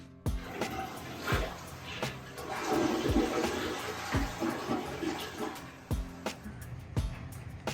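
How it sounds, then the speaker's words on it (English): A newly installed toilet flushes, a gurgling wash of water swirling and draining at close range, mixed with intermittent clunks and knocks, with no talk over it. "We have a flushing toilet, which is a great step in the right direction."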